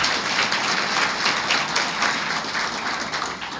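Audience applause at an International Nurses Day health event, a continuous wash of many hands clapping at moderate loudness with no speech over it.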